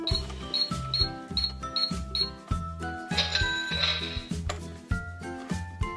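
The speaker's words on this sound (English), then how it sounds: "It's a cash register and it makes realistic sounds." A Minnie Mouse Bowtique toy cash register plays a busy electronic tune with bright bell-like chimes and repeated beeps in a steady rhythm, close and clear with no talking.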